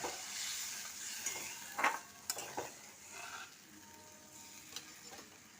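Water bubbles and simmers in a pan of egg curry, a soft, faint hiss with a few light clinks and scrapes of a spoon against the pan.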